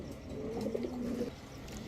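Giribaz highflyer pigeons coo in a soft, low, throaty burble that swells in the middle and fades toward the end, fairly close, with no voices over it.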